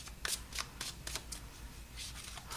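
A deck of tarot cards is shuffled close by in repeated riffling bursts, with no talk.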